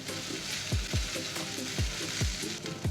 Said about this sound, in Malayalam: നല്ലതായിട്ട് ഇളക്കി നമുക്കിതിനെ ലൈറ്റ് ബ്രൗൺ കളർ ആവുന്നവരെ വഴറ്റിയെടുക്കാം